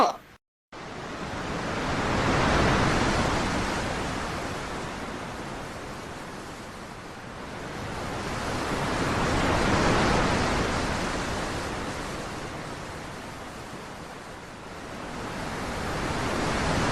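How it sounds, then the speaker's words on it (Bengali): Strong river current in a cartoon setting, heard as a steady, full rushing wash that swells and eases in broad slow surges, loud and continuous throughout with no talk over it. "আজকে নদীর অনেক স্রোত"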